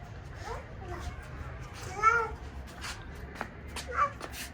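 Soft meows, one clearer cry near the middle and another toward the end, over low background noise and faint voices.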